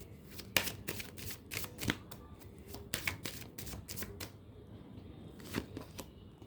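Tarot cards are shuffled and drawn in a quiet room, giving a run of crisp riffling snaps and soft slaps at irregular intervals, close and fairly faint, with no talk over them.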